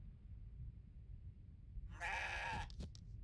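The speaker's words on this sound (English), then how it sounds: "Excited goat noises." A goat in the video game CrossCode bleats once in a short, bright burst followed by a couple of quick clipped squeaks, standing out over a low, quiet background.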